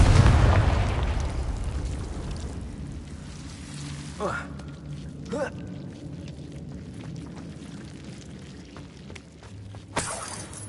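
A Confringo fire spell in Hogwarts Legacy bursts with a deep, rumbling blast at the start that fades into a steady rain-like hiss, with a few faint pops and a sharp crack near the end.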